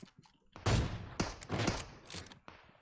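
Gunfire in the PUBG Mobile battle game: several loud, sharp shot bursts crack close by at irregular intervals, each with a short ringing tail, separated by brief quieter gaps.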